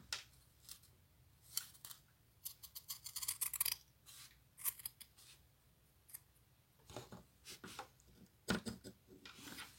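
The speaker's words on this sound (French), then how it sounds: "On va couper le plus droit possible." Scissors cutting fabric for a hand-sewn needle case, heard as close, crisp snips in irregular bursts with brief pauses between cuts.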